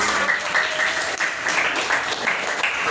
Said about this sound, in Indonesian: tepuk tangan ke kelompok 4